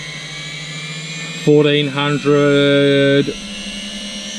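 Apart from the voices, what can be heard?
drone motor spinning as throttle is raised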